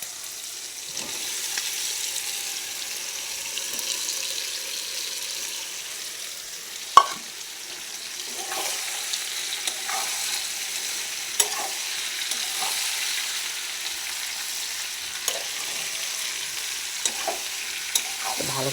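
Chicken sizzling in hot oil over a high flame for chilli chicken, a steady frying hiss broken by periodic scrapes and knocks of a spatula stirring the pan.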